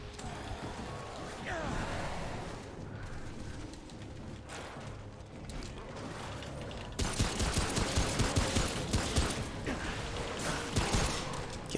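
Shotgun blasts and gunfire in the video game Remnant: From the Ashes, rapid sharp bursts growing denser and louder in the second half, mixed with game noise and a voice talking over it.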